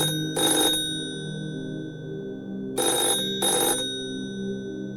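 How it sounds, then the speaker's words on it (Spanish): A telephone rings in a horror story at 3:33 in the morning, three electronic ring bursts with a pause after the first, steady and fairly close, with no talk over them. "A las 3:33 de la mañana, el teléfono sonó."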